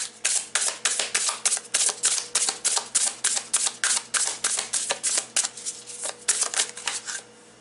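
A tarot card deck riffled and shuffled at close range, a fast run of crisp, rhythmic card flutters repeating steadily with no talk.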